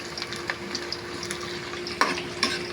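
Onions sauté in hot oil for ginataang chicken feet, a steady close sizzle with light stirring clicks and a couple of sharper taps of the utensil, with no voices.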